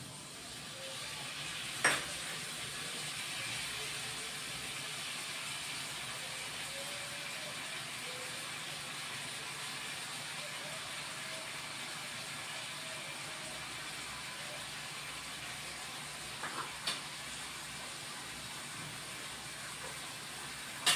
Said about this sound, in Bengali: পোস্ত দিয়ে কষে নিয়েছি এবার শস্য বাটাটা দিব